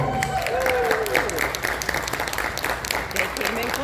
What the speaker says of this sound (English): Help give them a round of applause.